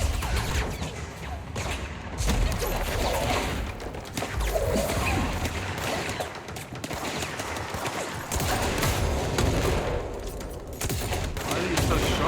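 Sustained gunfire aimed at the player in the video game Control, a dense continuous barrage of shots with impacts, loud and steady throughout with a voice briefly heard.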